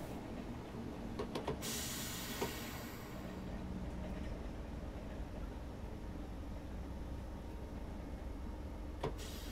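A Great Northern Class 313 electric train in Train Sim World 2021 runs at low speed near a platform, a steady low rumble with faint clicks and a brief brighter burst early on.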